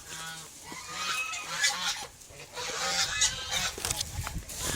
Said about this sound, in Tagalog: Makikita nyo nandyan yung gansa niya.